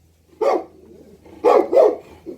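A dog barks close by, one sharp bark, then a quick pair of loud barks and a short softer yelp, with no talking.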